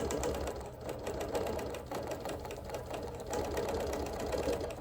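A sewing machine runs steadily while quilting around appliqué leaves, giving a fast, even mechanical chatter at close range and low volume.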